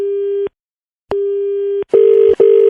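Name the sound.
telephone dial tone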